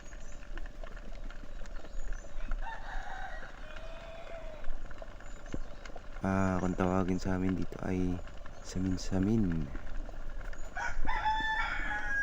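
A rooster crows outdoors in a village, with several drawn-out harmonic calls standing out at moderate distance while someone talks over them.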